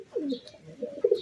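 A Dhakai pigeon gives a soft, close coo, a short low warble repeated a couple of times in a quiet room.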